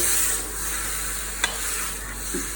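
Turnip and spinach bhujia stirred with spices in a pan, a soft steady sizzle and hiss with a single sharp scrape of the spoon partway through and a low background hum.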